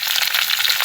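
Green chillies hit hot oil already crackling with cumin seeds and curry leaves, giving a brief, steady, close sizzle with dense spitting crackle and no pause.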